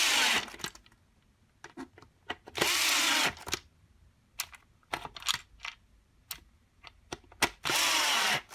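A power screwdriver drives five screws back into a Dyson DC25 upright vacuum, several loud whirring bursts separated by clicks and plastic handling knocks nearby.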